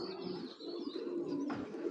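A foreign racing pigeon coos close by in repeated soft, throaty phrases over a continuous low background murmur.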